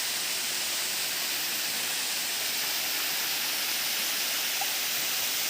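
Giridi Bandh waterfall in Keonjhar gives off a constant, even roar of falling water that fills the whole stretch with no voices over it.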